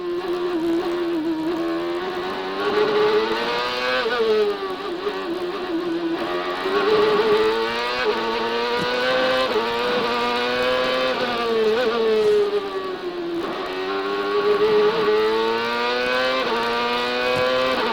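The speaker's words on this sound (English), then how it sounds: "Just nicked the rev limiter, top gear." A CART race car engine screams at its rev limiter in top gear during qualifying at Mid-Ohio in 2002, a loud, sustained high-pitched wail with pitch rising and falling through repeated throttle cycles.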